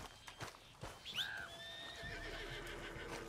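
A horse whinnies in Red Dead Redemption 2, a rising and falling neigh that stands out clearly over faint hoof clip-clops and low game ambience.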